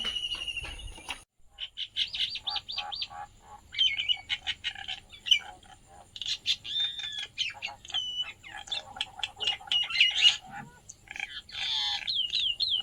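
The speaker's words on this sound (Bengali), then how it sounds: "বাড়ির সামনে দেখুন আরো 4টে শালিক পাখি এক জায়গায় হয়েছে মারামারি করার জন্য" Several myna birds squabble in front of a house, giving a busy run of harsh chirps, squawks and chattering calls, fairly close and loud against a quiet background.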